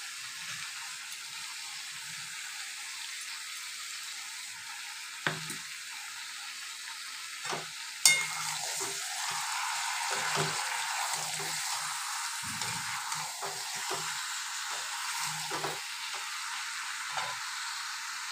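Chicken masala sautéing in a pan with cumin and coriander powder, a steady soft sizzle broken by scattered clinks and scrapes of a spoon stirring, close and fairly quiet, with no voices.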